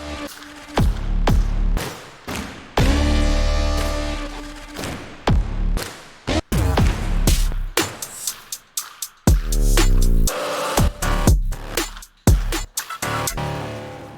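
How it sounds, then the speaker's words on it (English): Low brrp sound from the Heavyocity Gravity 2 sound library, heard as a string of loud, deep, buzzy pulses and hits in an uneven rhythm, with short gaps between them and no voices. "this low brrp sound is Damage 2 again, of course. Gravity 2, sorry."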